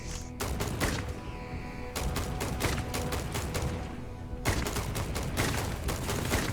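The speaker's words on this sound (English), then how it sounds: "Shoot her in the ankles." Gunfire in Starfield, long rapid automatic bursts broken by short pauses, loud and dense with heavy thumps mixed in.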